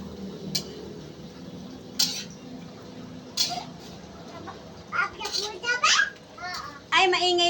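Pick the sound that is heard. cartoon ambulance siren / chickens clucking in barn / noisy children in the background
noisy children in the background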